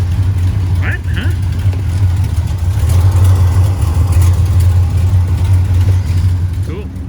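A 1955 Ford COE truck engine runs loudly and steadily nearby, a deep rumbling drone throughout, with voices talking over it.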